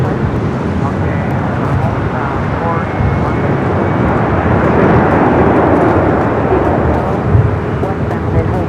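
Airbus A330 taxiing at Los Angeles International Airport, a steady broad engine rumble close by, joined by loud wind buffeting on the microphone and radio-style talk over the top.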